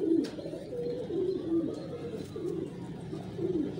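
Large pigeons kept and trained by a fancier coo in soft repeated low phrases, close and steady over a faint background hum, with no one talking.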